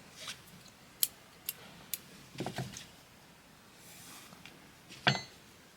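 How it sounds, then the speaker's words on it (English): Scissors snipping a long tail of crochet yarn, a few sharp separate clicks and snips spread out among quiet handling rustles, close and with no talking. "I'm just going to pull the yarn out and cut a long tail for sewing"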